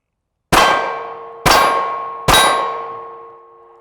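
Three sharp metallic clangs from pistol hits on a steel torso target, each ringing and slowly decaying, spaced about a second apart with no talking.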